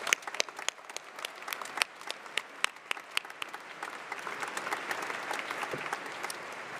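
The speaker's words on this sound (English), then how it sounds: "Please join me as we applaud their support of and dedication to the success of our students." A commencement ceremony audience applauds, starting with scattered individual claps that swell into sustained clapping from a large crowd in a hall.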